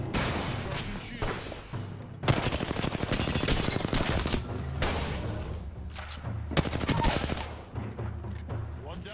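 Heavy gunfire crashes through an Apex Legends firefight: dense automatic volleys and single loud shots come in repeated bursts, with brief lulls between them, close and loud throughout.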